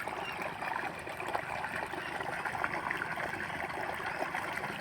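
Water flows steadily nearby in a constant rushing, trickling stream at an even level throughout.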